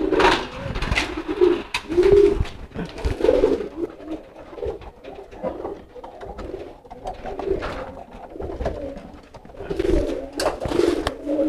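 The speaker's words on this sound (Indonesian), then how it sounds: "biar memancing si merpati kipas ini giring lebih bagus" A fantail pigeon coos loudly and close in repeated rolling phrases, with a second bird's calls and light rustling between them.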